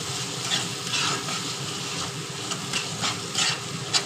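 Masala with Kashmiri red chili powder sizzles in oil for aloo dum, a steady loud frying hiss broken by regular scraping strokes of a spoon.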